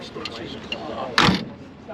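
The door of a 1951 Ford Stewart Safety Wagon swings shut with one solid, loud thunk after a stretch of quiet handling noise and background murmur.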